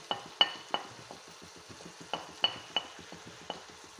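A spoon stirs prawn roast masala with garam masala, coriander powder and turmeric in a pan, giving a series of sharp scraping clinks at an irregular rhythm over a faint, low sizzle close by.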